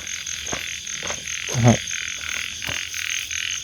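Frogs croak in a rice field pond at night, with one loud nearby croak rising over a steady chorus of insects and distant calls.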